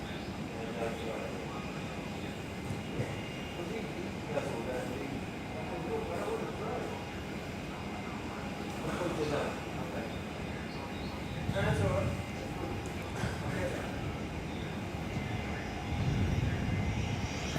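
Aircraft engines drone steadily at Perth airport as a Velocity jet lines up for departure to Karratha, a broad continuous roar with swells near the end, while people talk faintly over it.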